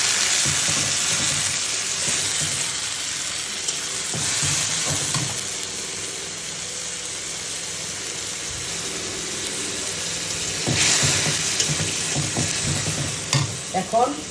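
Cardamom, cumin, garlic, ginger, two green chillies and four or five dried chillies sizzle loudly in hot oil, a continuous close hiss with occasional stirring scrapes and clinks, and no voices.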